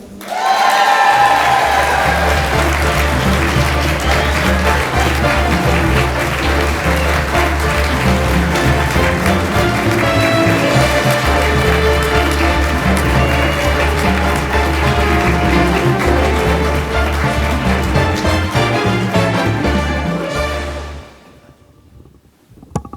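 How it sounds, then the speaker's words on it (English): A large crowd at an awards ceremony for cartoonists applauds the winner, with loud, sustained clapping and cheering that holds steady for about twenty seconds before fading out. "please clap more than once for the winner"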